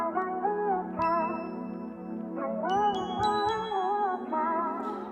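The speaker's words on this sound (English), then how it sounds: "I got this bell sound called Zy Bells. It's a factory sound." Zy Bells, a factory bell preset in beat-making software, plays a bright melodic line of ringing tonal notes with sustained overtones, clear and close, with no talking.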